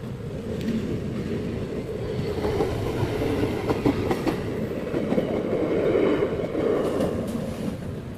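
A train rumbles slowly along the Vijayawada–Kazipet line between Khammam and Dornakal Junction, wheels clacking and rattling steadily from close by, with no voices.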